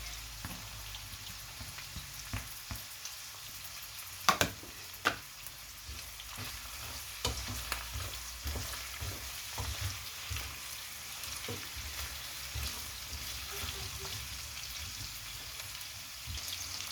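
Garlic frying in a pan gives off a steady, close sizzle and crackle, with a few louder clicks and pops scattered through it.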